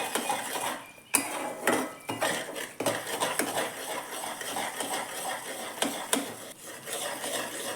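A spoon scrapes and clinks against a pan while ghee is stirred into a jaggery and peanut chikki mixture, giving a steady run of close scraping strokes with occasional sharper knocks.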